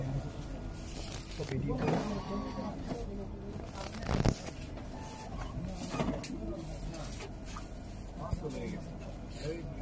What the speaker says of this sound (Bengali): দেখতে পাচ্ছেন এই মুহূর্তে প্রিন্ট হচ্ছে, ফিল্মে প্রিন্ট হচ্ছে, ক্লিয়ার ফিল্ম যেটা